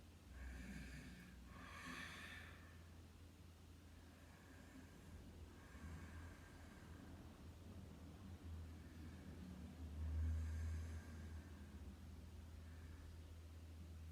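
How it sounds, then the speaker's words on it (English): Slow, soft ujjayi breaths drawn in and out through the nose with a raspy, constricted hiss from the throat, like a gentle snore, repeating at a calm, even pace. "we breathe in and out through the nose with a constriction about the throat"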